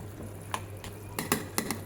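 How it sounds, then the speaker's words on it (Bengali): Eggs and potatoes stirred in a wok, with a soft steady sizzle and several sharp scraping clinks of the spatula against the pan. "একটু ভালো করে নেড়ে দেবো।"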